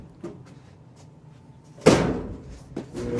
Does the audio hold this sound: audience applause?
no